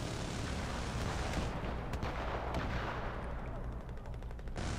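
Gunfire from enemy players in the game Battlefield 4: dense, continuous shooting and rumbling blasts, with sharp individual cracks poking through a loud, steady battlefield roar.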